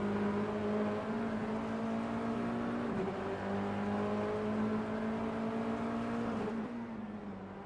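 Polo Super Cup race cars run in close formation on the circuit, one tucked into another's slipstream, with a steady, loud engine drone and harmonic whine that holds throughout and dips slightly near the end.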